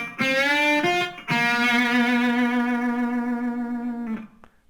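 An electric guitar plays a lick with a sustained whole-step string bend, a few clean picked notes followed by a long ringing bent note that fades near the end, heard alone without speech.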